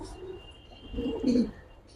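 Pet pigeons, Giribaz and other fancy breeds kept at a home loft, give a low, throaty coo that swells and fades once, close and fairly quiet over a soft background.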